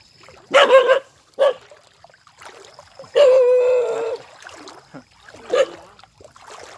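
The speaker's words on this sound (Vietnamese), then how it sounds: "Có con chó này" A dog barks in short, loud bursts outdoors beside a small stream, with one longer run of barking in the middle and quiet gaps between.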